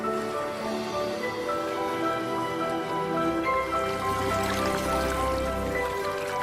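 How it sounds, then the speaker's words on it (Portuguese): River swelling after months of rain as it flows toward the Namibian desert, a continuous soft rushing and trickling of water with a gentle, steady wash and no voices. "milhares de pequenas gotas se aglutinam em um rio crescente"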